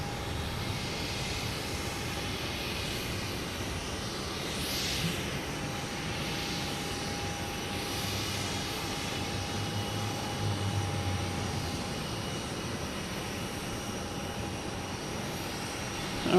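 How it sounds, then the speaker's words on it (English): A Spirit Airlines Airbus A320 jet takes off at Boston Logan Airport, a steady loud engine roar and rumble at moderate distance that holds throughout, with wind-like broadband noise. "Spirit Airlines taking off, heading to Baltimore, an A320."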